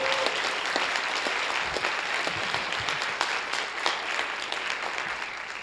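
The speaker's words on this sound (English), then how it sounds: "We get a round of applause for this guy right here" An audience at a school rhythm and percussion show applauds, a dense steady wash of clapping that holds at an even level and then eases slightly toward the end.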